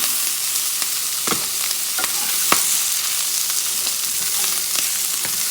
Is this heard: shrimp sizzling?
yes